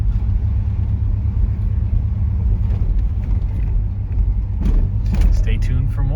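A 1966 Pontiac Catalina coupe with a 389 V8 rumbles steadily up close, a deep low idle that swells slightly toward the end, with brief clatter and voices faintly over it.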